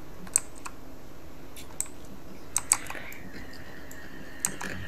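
Scattered keystrokes on a computer keyboard, a handful of sharp separate clicks spread over several seconds against a steady background hum, with no talking.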